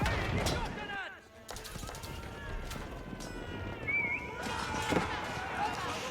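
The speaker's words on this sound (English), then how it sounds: "White tower now firing away." White Tower firing in an Age of Empires 4 battle: scattered sharp shots and impacts amid ongoing combat noise, faint and mostly beneath continuous commentary.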